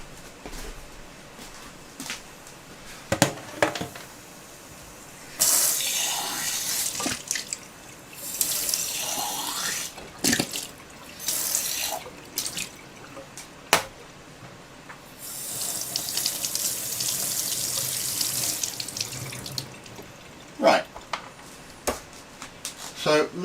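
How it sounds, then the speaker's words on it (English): Acid from a chemistry rate-of-reaction experiment is poured away into a sink, giving bursts of splashing, rushing water with pauses and clinks between them, close and moderately loud. "I'm just going to pour the acid away"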